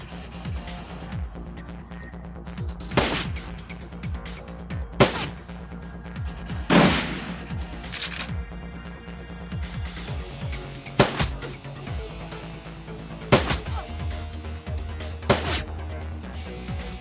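Shotgun blasts in the turn-based video game Shadowrun Returns boom out as sharp, loud, separate shots every couple of seconds over a low rumbling game soundtrack, with no talking.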